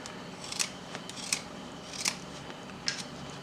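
A knife carves a wooden cowboy bust with a handlebar mustache: four crisp, short cutting strokes at a fairly even pace over a steady low background hiss, with no voices.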